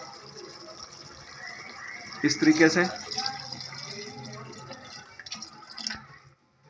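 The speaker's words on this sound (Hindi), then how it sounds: "तो इसको मिक्स करने के बाद मैंने इसके अंदर तकरीबन 3 गिलास पानी के डाल देने हैं" About three glasses of water poured into a pot of chicken shorba make a brief splashing, filling burst in the middle, with someone talking over it before and after.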